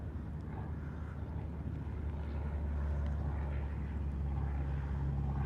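A distant airplane drones overhead during an outdoor hike, a faint, steady low rumble that holds throughout without any voices.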